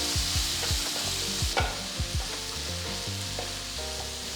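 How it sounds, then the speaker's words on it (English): Finely chopped onion and slit green chillies sauté in a pan with a steady sizzle and repeated stirring scrapes, over soft melodic background music. "Then add 1 onion finely chopped, 5 green chillies slit and saute for a minute."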